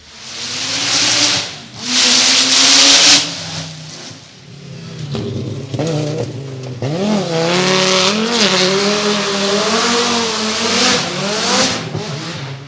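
A 1930s racing car driving at the Goodwood Festival of Speed 2024, its engine loud and near as it revs and accelerates, with rising and falling pitch sweeps and no talking over it.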